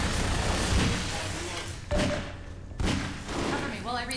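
Heavy booming gunshots ring out a few times amid a busy, rumbling Half-Life 2 co-op soundscape, with a voice talking over it.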